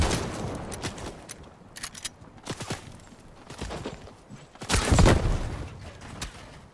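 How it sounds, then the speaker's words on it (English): Several gunshots in a Fortnite match, aimed at the player: scattered sharp cracks spread across the scene, with a louder, closer burst near the end. No one speaks. "now someone else is trying to shoot me"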